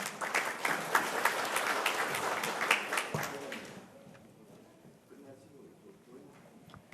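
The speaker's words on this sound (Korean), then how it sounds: "박수로 맞아주시길 바라겠습니다." An audience at a debate forum on digital piracy and copyright education applauds as a speaker is welcomed, brisk clapping for about three and a half seconds that then fades, leaving low room noise.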